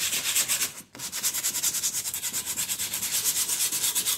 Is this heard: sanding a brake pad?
yes